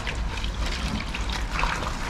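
A down jacket is kneaded by hand in a basin of washing water, giving continuous close sloshing, squelching and trickling sounds with no voice over it.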